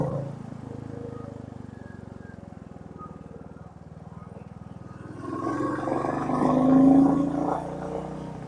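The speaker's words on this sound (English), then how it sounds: "Now shifting to the third gear" A Royal Enfield Meteor 350 motorcycle on the road shifts into third gear, its steady low engine drone rising and swelling in revs after the change, with wind rush building, close and continuous.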